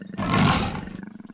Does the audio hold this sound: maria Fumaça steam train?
no